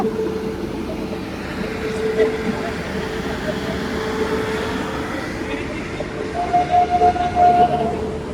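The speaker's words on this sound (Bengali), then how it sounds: "ট্রেনটা কিন্তু ছেড়ে দিল এক নম্বর প্ল্যাটফর্ম থেকে" The Kolkata–Sairang Express rumbles steadily as it departs platform one in Kolkata, its rolling clatter growing louder near the end, with a horn sounding faintly in the background.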